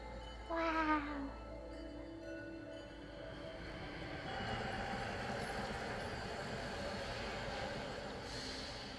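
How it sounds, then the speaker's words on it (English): A video game train in a snowy setting rumbles past with a steady, broad mechanical roar that swells midway and holds. A brief rising tonal whistle or squeal comes near the start. "Oh, that's a train."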